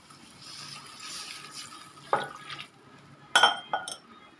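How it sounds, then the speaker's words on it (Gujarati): Water is poured into a cooking pot in a few short, close splashes, with light clinks of the vessel between them and no talking. "થોડું પાણી અંદર એડ કરી દઈએ."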